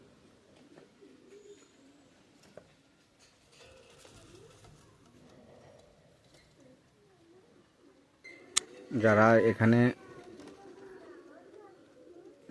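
Pigeons coo softly in the background while someone speaks briefly and loudly close by toward the end.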